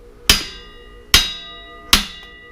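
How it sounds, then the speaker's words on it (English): An impact driver hits a bolt on a Harley-Davidson rear wheel three times, each a sharp metallic strike with a ringing decay, spaced about a second apart, close and loud. "Let's try the impact driver here."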